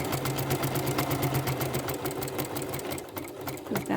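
Sewing machine fitted with a walking foot quilting a shadow-triangles quilt, a steady fast rhythmic whirring hum close by that runs throughout and eases slightly near the end.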